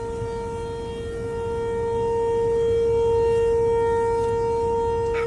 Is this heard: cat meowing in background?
no